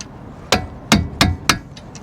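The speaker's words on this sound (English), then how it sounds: "This massive hammer is annoying." A large hammer strikes metal during a brake pad change on Mercedes AMG big front brakes: four sharp, loud clanging blows in quick, uneven succession, then two fainter taps.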